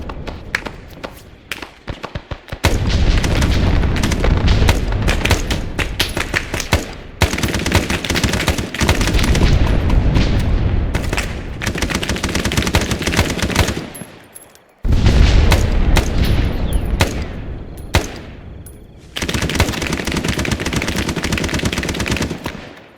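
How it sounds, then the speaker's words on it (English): Sustained bursts of gunfire with heavy artillery explosions fill a Vietnam War combat video game, loud and dense with brief lulls between intense barrages. "Yeah, artillery. Artillery hit."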